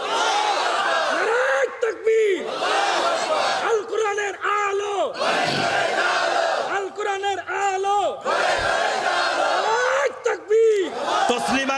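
A large crowd at an Islamic sermon roars back the chant "Naraye Takbir" in repeated loud unison shouts, each swelling call answered by the massed voices with brief gaps between waves.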